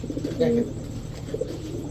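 Pigeons coo, one short soft coo rising briefly over a low murmur of birds and faint background voices.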